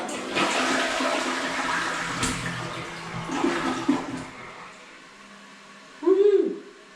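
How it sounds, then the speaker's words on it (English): A household toilet being flushed after a float and standpipe repair: water rushes and gurgles loudly for several seconds, tapering off, followed by a brief squeaky refill whine near the end. "It's a weird feeling being so excited about a toilet flushing."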